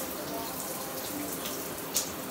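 A shower runs steadily at night, an even, continuous hiss of spraying water heard from a short distance, with a faint brief clink near the end and no clear talk.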